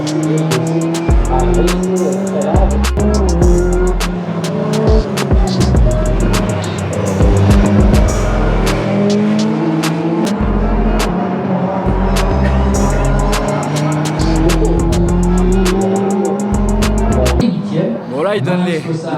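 Two-litre Midget race cars compete in a French championship race, with engines roaring, revving and passing over one another for a sustained stretch. Someone talks over the engine noise.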